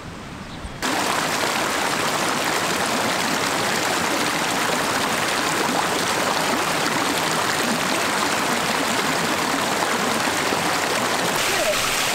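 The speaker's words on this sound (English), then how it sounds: "I can hear water" Steady rushing of a flowing mountain stream in southern Spain fills the whole clip, a constant broadband wash of clear water close by, starting abruptly after a brief quieter moment.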